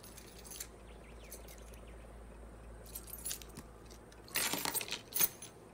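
A bunch of keys jangles close by in a few quick metallic shakes, faint clinks early on, then a louder rattling burst near the end over a quiet background.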